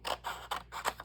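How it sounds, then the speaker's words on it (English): Plain scissors snip through a paper printable in four quick, crisp cuts, close and quiet. "And you use a plain old scissors."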